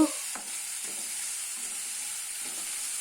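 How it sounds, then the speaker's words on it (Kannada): Tomato, green chili and ridge gourd frying in oil for a ridge gourd chutney, giving a steady continuous sizzle with a few soft stirring scrapes, close and alone with no talk. "ಹಸಿ ವಾಸನೆ ಹೋಗೋವರೆಗೂ ಟೊಮೊಟೊ ಹಸಿಮೆಣ್ಸಿನ್ಕಾಯಿ ಹೀರೆಕಾಯನ್ನು ಚೆನ್ನಾಗಿ ಎಣ್ಣೆಯಲ್ಲಿ ಹುರಿದುಕೊಂಡು"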